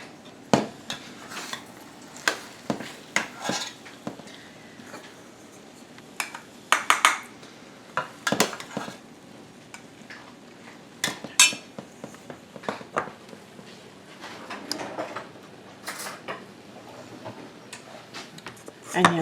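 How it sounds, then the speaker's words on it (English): Spoon scraping and clinking against a baking dish while homemade baked cherry dumplings are served, a scattered series of sharp, close taps and clatters with a person speaking in between. "So let's dish up some of these dumplings."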